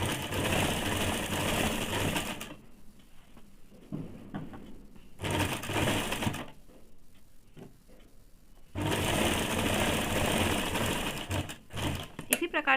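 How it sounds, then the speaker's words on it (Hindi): A sewing machine double-stitches a half-inch seam on a saree-matching blouse (choli): three loud, steady whirring runs of stitching, with quieter gaps where a voice talks between them. "सिलाई डबल देंगे ताकि कपड़ा मजबूत रहे"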